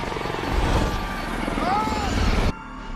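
A helicopter in a New York evacuation crash scene from the film I Am Legend, a dense roaring rotor and engine rumble with faint muffled voices underneath, cutting off sharply near the end.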